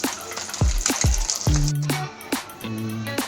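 Eggs fry in hot oil in a kadai until browned, with a close sizzle punctuated by several distinct metallic clinks and ringing taps of a utensil.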